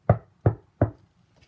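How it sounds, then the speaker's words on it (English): Three evenly spaced knocks on a door, close and fairly loud, each a short sharp thud with no talk over them. "Big Bad Wolf knocked on Mrs. Duck's door"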